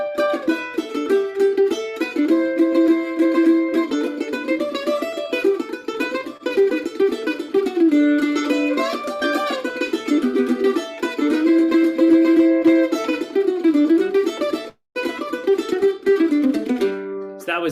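Bluegrass melody, likely fiddle, alternating phrases of double stops with single-line fiddle-tune runs, played steadily and loudly without pause except for one brief break near the end.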